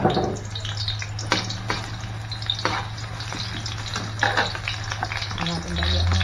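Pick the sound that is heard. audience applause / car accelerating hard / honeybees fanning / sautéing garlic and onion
sautéing garlic and onion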